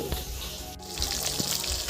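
Fish frying in a pan on a home kitchen stove, a steady near sizzle with a few brief clinks and stirring knocks over the top.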